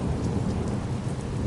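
Steady, loud rainfall with a low rumble of thunder beneath it, continuous and close with no voices.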